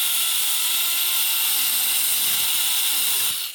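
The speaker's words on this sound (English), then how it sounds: "I'm just going to take Scotch-Brite style cookie and just see if I can hit it from the side to start off with." A Scotch-Brite style abrasive disc spinning on a power tool to clean a part, a loud, steady, high whirring grind held for about three seconds before it starts to wind down.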